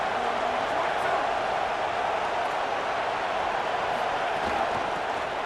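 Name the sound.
football stadium crowd cheering loudly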